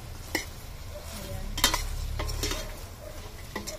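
Chicken feet adobo being stirred in a pan on the stove, with a few sharp utensil clinks and scrapes over a soft sizzle. A single short word is spoken.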